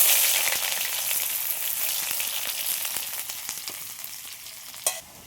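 Onion and garlic sizzle steadily in hot oil with nigella seeds and dried red chillies, a dense bright crackle filling the pan, with scattered sharper pops and one louder clatter near the end; no voices.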